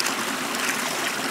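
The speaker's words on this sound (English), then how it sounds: "Hopefully you can see that I got quite a bit of water coming out here." Creek water gushing out of the end of a rigid pipe during a microhydro head measurement, a loud, steady rushing pour close to the microphone with no talking.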